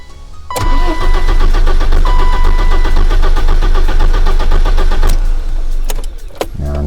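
A 1991 BMW 318i E30 engine cranks and catches, then holds a loud, steady idle for several seconds before faltering near the end, heard close up with no talking.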